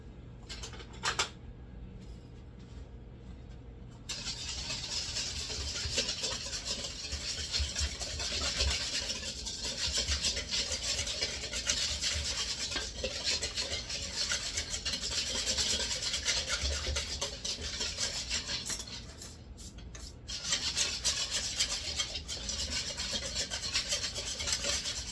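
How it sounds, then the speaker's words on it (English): A metal whisk scrapes and rubs steadily against a bowl, mixing a Greek potato salad dressing seasoned with pepper, a continuous close rasping rhythm lasting throughout with a brief pause near the start. "Now I'm going to whisk this together."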